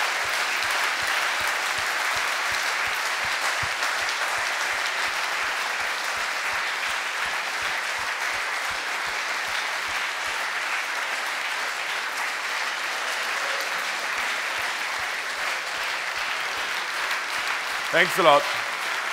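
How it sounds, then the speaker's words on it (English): Sustained applause from a large crowd at a hackathon closing ceremony, loud and steady throughout, with a brief spoken thanks near the end. "this is definitely worth a big, big, big round of applause"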